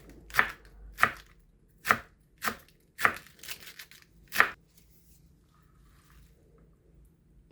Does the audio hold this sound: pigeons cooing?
no